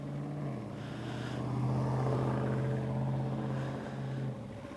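An older motorcycle ridden slowly around town on a test ride, a steady low engine drone with a gentle rise in revs mid-clip before easing off again.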